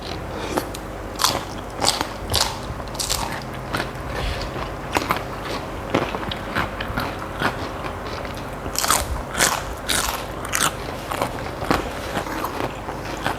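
Crunchy cuttlefish, pounded as a tam-style dish with sator beans, is bitten and chewed close up in a run of sharp, irregular crunches and crackles, loud and without talk.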